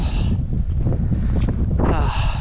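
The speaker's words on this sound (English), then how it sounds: "Oh, it's very light wind, so it's not too bad." Light wind gusting across the open moorland of Kinder Scout in the Peak District, a steady broadband rush buffeting the microphone for the whole stretch, swelling again near the end.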